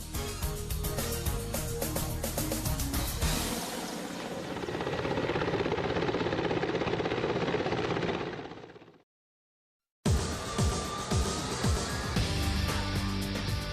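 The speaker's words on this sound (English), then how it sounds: "Mi-35 type helicopters and their modifications possess a high performance and serve as effective and reliable means of fighting in present-day conditions." A Mi-35 attack transport helicopter roars loudly and steadily with rotor and turbine noise, breaks off into a second of silence, then returns just as strong.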